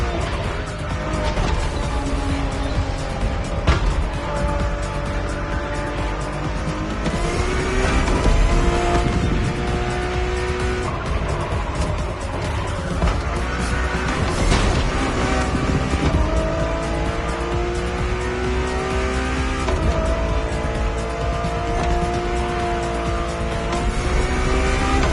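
A road-legal Ferrari Formula One car drives in the video game The Crew Motorfest, its high-revving engine whining up and down through repeated gear shifts, loud and sustained, over a constant layer of background music.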